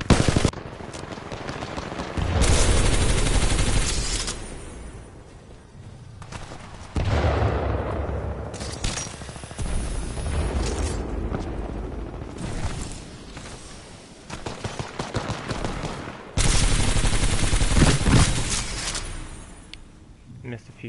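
Gunfire from the video game Titanfall 2 comes in several loud bursts of rapid automatic shots, separated by quieter stretches of game noise, with a voice talking in between.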